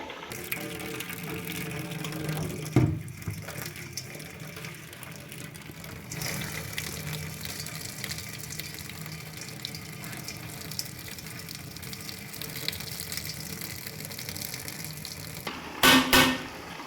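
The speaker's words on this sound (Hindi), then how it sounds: "ये मैं पानी निकाल लूँ तो दिखाती हूँ आगे क्या करना है" Water being poured off mustard greens (sarson ka saag) that cooked for six to seven hours in a pot. It makes a steady close splashing and gushing stream for most of the clip, with a sharper clatter near the end.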